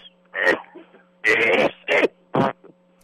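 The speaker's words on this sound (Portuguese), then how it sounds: "O senhor tá tossindo, tá eu dando vontade de tossir." Several short, harsh coughs or throat-clearing bursts in quick succession, close and fairly loud, with brief pauses between them.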